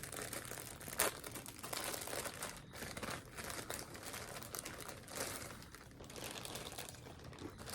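Plastic bag crinkling while unpacking a subscription box, continuous close rustling and crackling with brief sharp crinkles, soft and without speech.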